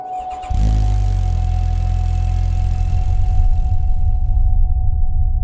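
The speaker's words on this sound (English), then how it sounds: "It finally let us hear that inline 4-cylinder engine, and man does it sound familiar." A Kawasaki side-by-side's inline four-cylinder engine fires up after a brief pause and settles into a steady, loud idle with a smooth, even hum.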